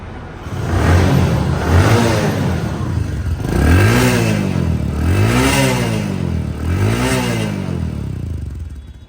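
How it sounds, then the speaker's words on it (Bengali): A second-hand motorcycle engine is revved hard three times in a row, each burst rising and falling in pitch over a loud, rough running note, close by with no talk. "এখন বাইকটির সাউন্ড কোয়ালিটি ঠিক আছে"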